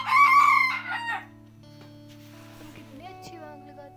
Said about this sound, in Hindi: मुर्गा भी देख लीजिए।